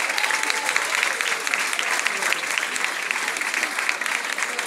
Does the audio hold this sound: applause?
yes